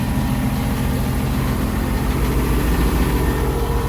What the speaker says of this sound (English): So when you're down in the cabin, this is how loud the diesel is.